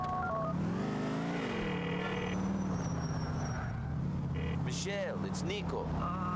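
A phone dialing from the phone book plays in the video game GTA IV, with short electronic dial tones over constant traffic and engine noise and game voices.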